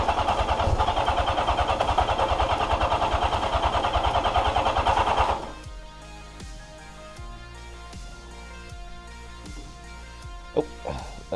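A 1982 Yamaha XJ650 motorcycle engine cranks and catches, running loud and rough with a rapid steady pulse for about five seconds before cutting out, leaving quieter clicks and scattered knocks.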